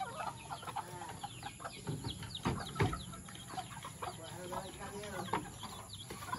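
Faint clucking and squawking come from a chicken being caught, with a few flaps and scuffles in between and voices speaking quietly in the background.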